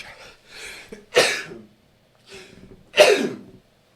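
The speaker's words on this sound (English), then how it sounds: "Can't believe you guys are just listening to a guy sneeze." Two sharp, loud sneezes burst out a couple of seconds apart, each preceded by a soft, breathy intake.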